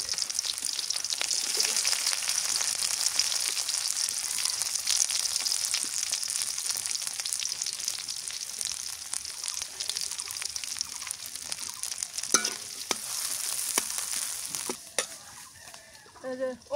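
Chopped onions and green chilies fry in a pan over a village cooking fire, a loud continuous hiss and sizzle with occasional stirring scrapes, fading slightly near the end.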